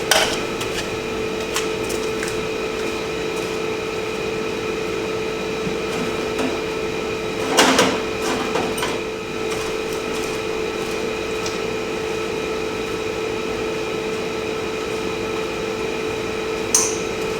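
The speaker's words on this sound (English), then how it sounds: "So I'm gonna get my air chisel, go up under there, see what I can do." Pneumatic air chisel working on a stuck part under a Honda 400ex quad: a steady, continuous buzzing drone held throughout, with a few sharper knocks standing out briefly, moderately loud and close.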